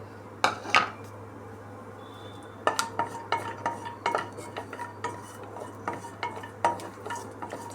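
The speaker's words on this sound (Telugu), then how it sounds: "కడాయిలో ఒక రెండు టీ స్పూన్లు నెయ్యి వేసుకుని నెయ్యి వేడయ్యాక జీడిపప్పులను కొద్దిగా ఫ్రై చేసుకుందామండి" Cashews frying in a little hot ghee in a kadai while being halwa ingredients, with a spoon repeatedly tapping and scraping the metal pan in an uneven rhythm, close and clear, with no voices.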